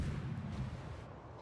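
High-caliber warship guns firing in a naval combat video game: a deep, booming artillery salvo with a rolling low rumble that fades over about a second.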